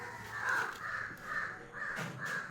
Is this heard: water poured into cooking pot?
no